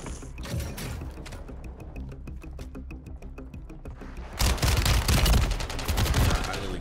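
Rapid bursts of automatic gunfire from a Call of Duty match on Rebirth Island, loud and close, with a quieter stretch of mechanical clicking before the shooting resumes densely near the end.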